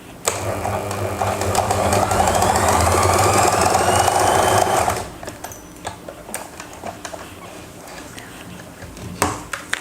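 A sewing machine stitches elastic onto fabric, its motor running in a steady rapid whir for about five seconds before stopping, followed by quieter handling clicks and taps at close range.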